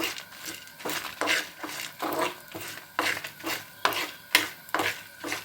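Drumstick leaves stirred and frying in a pan, a dry crackling sizzle broken by regular scraping strokes of a spatula roughly every half second, close and fairly loud with no talking.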